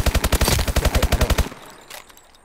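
A rapid, steady burst of submachine gun fire in the video game Call of Duty Advanced Warfare, with about fifteen sharp, loud shots in quick rhythm before stopping and leaving a faint tail.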